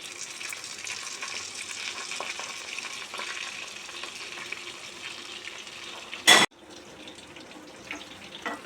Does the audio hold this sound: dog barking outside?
no